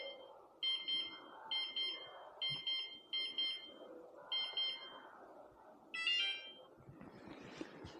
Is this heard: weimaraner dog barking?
no